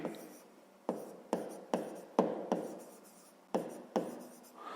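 A pen writes out a fifth-grade math solution by hand on paper, with close, quiet scratching strokes in short bursts separated by brief pauses, no talk.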